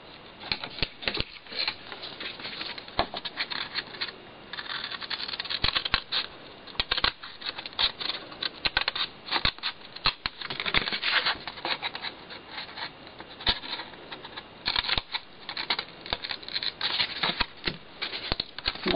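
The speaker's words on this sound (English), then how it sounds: "we're going to cut away this part on each end" Card being cut for a note card box, a long run of quick, close snips and rustles of paper and scissors in irregular bursts, no speech.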